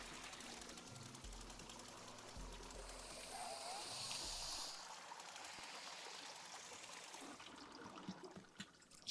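Water pours steadily into a container in the WanderStop tea shop game, a soft continuous trickle and stream running for several seconds at low level, with a brief louder rustle at the very end.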